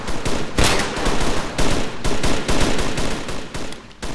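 Rapid bursts of automatic gunfire crackle without pause from a French roleplay server shootout, dense and loud, with sharp louder shots punctuating a continuous rattle of weapons.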